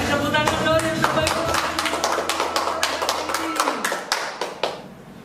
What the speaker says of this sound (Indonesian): Kasih tepuk tangan dong yang terbaik.